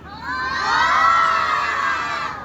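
A crowd of children at a ventriloquist puppet show shout together loudly in one sustained, swelling cheer lasting a couple of seconds before it fades.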